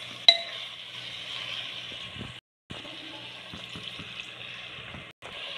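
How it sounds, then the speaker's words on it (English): Cashew nuts and raisins sizzle in hot spiced oil in a pan for a chicken dish, a continuous close frying hiss with a few light clinks and stirring knocks, broken by two short gaps. "cashew nut, really fried. Few raisins, tempting smell is coming out"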